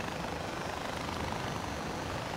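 A helicopter flies in the video game Far Cry 4, its rotor and engine forming a constant, full-bodied roar with no voices over it.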